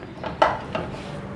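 Raw meat pieces being added into a metal pressure cooker, a couple of sharp clanks and scraping knocks against the pot, close and moderately loud with no talk.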